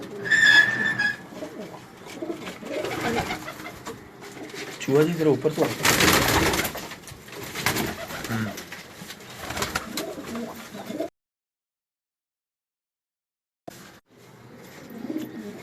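Pigeons in a Karachi loft coo softly close by among rustling and light clatter, with a voice talking over them. The sound cuts out briefly before resuming quietly.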